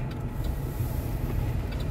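A car rolls in neutral on a road near Madinah, giving a steady low rumble of tires and body noise with faint wind, no engine revving and no talk.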